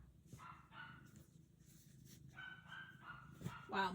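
A dog barks repeatedly in short bursts somewhere off at a distance, fairly faint, with irregular pauses between barks.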